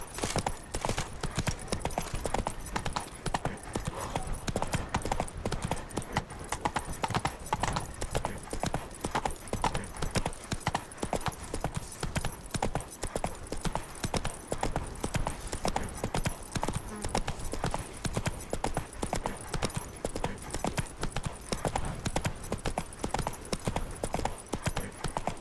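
Roach, the horse in The Witcher 3, moving at a continuous rhythmic trot, with even clip-clopping hooves running without pause throughout at moderate level.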